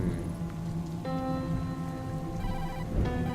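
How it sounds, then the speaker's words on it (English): A phone rings inside a filthy paper bag in a dumpster in the game Tokyo Dark, a repeating electronic ringtone melody, moderately loud over a soft rain-like background hiss. "The ringing is coming from inside."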